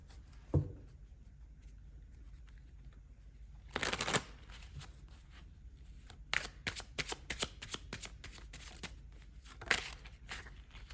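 Tarot cards being shuffled by hand, a few separate riffling bursts and a run of quick card flicks against a quiet room background, close and soft with no speech.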